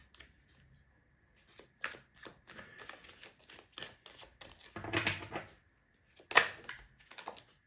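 Tarot cards being shuffled by hand, heard as a series of short, crisp riffling bursts with brief pauses between them, close up and fairly quiet, with no talking.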